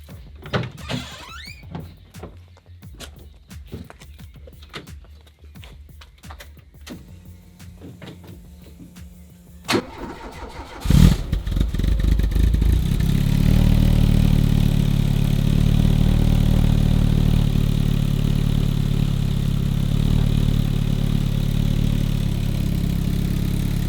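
A Peugeot 309 GTI 16 with a muffler fitted cranks and fires after some clunks and handling noises, then settles into a steady, fairly quiet close-up idle that runs evenly for the remaining seconds.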